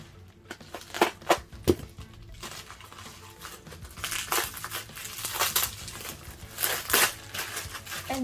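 Bubble wrap packaging around a small crystal haul being cut open and unrolled, with a run of crinkling, crunching plastic rustles and a few sharp snips, close and fairly quiet, with no talking.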